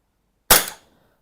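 A single sharp gas-powered shot from an Umarex GLOCK airsoft pistol, loud and close, with a quick decay after silence.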